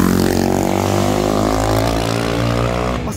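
Motorcycle with a 470cc engine, an FT 450, revving loudly and close by, its steady throbbing note rising gradually in pitch over a few seconds with no talking.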